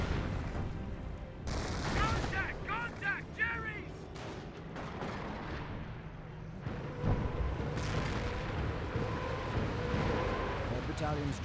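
Pak 38 anti-tank gun firing in the WWII strategy game Company of Heroes, sharp cannon reports and distant battle booms over a steady din of combat, with a commentator talking throughout.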